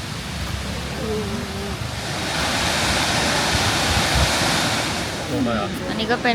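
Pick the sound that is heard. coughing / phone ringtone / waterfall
waterfall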